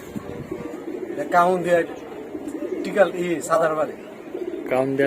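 Pigeons coo in low, repeated bursts close by at a pigeon loft, mixed with people talking over them.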